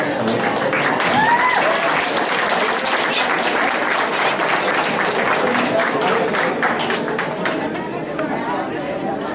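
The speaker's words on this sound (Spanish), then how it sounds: "será presentada por la señora Momiko Suzuki, para quien les pido un hermoso aplauso." An audience at a Japanese association's cultural evening in Tijuana gives sustained, dense applause, with crowd chatter mixed in throughout.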